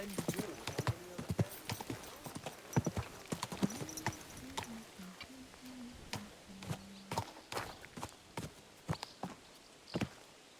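Horse hooves clip-clop in the medieval video game Kingdom Come: Deliverance II, a steady rhythm of sharp, close hoofbeats on hard ground, with someone talking over the first half.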